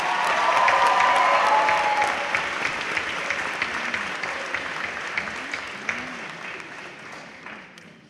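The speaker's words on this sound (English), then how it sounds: "Let's give her another round of applause." An audience applauds a student at a school Year 12 awards ceremony, a full round of many hands clapping in a hall, loudest at the start and slowly tapering off over several seconds.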